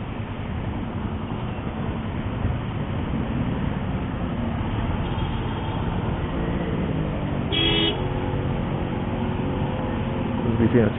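Busy highway traffic heard from a moving motorcycle, a steady broadband road and engine rumble throughout, with a short tonal car horn toot near the end and brief honks layered over the noise.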